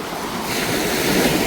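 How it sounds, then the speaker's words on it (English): Continuous broadband surf wash, ocean waves in Mallorca, Spain rushing and swelling slightly louder toward the end, with wind noise mixed in. "Why are the waves so much?"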